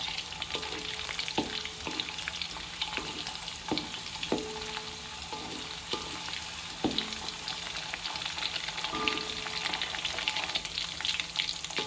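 Petai beans fry in a pan with a steady sizzle, broken now and then by a few sharp scrapes and knocks as they are stirred.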